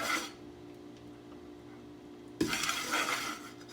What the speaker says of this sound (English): just give this a stir